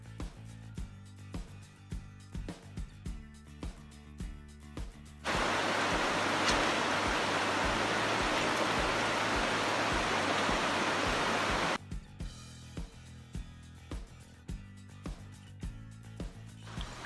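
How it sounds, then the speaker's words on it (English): A loud, steady wash of waterfall noise in Utah fills a stretch of about six seconds in the middle, cutting in abruptly and then giving way again to rhythmic music on either side. "But now we're at the waterfall."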